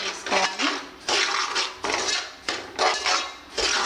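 A metal spoon scrapes and clinks around a pot of fine semolina roasting over a low flame, in repeated bursts of stirring about every half second to second, close and fairly quiet.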